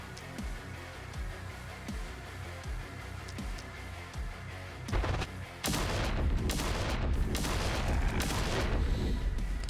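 Cannon fire in the strategy game The Last Spell, soft repeated thumps at first, then a loud sustained barrage of booming blasts crowding the second half.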